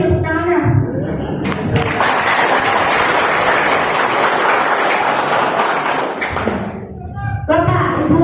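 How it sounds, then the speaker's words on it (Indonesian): Applause from the audience at a DAD inauguration ceremony in Jelimpo, Landak, West Kalimantan: a loud, dense burst of clapping lasting several seconds, with a speaker's voice before and after it. "Terus ini tepuk tangannya."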